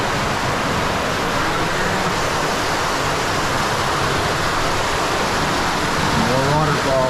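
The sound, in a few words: forest waterfall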